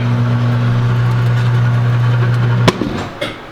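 A tire changer machine's motor drones in a steady low hum while it rotates a tire to mount the bead, then cuts off abruptly with a clunk, followed by a couple of faint mechanical knocks, close by.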